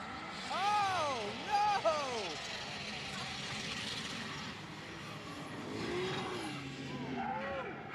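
Drift cars leaving the start line side by side in a battle, engines heard at a distance with rising revs and wheel noise under loud live commentary, the sound swelling and fading as they pull away.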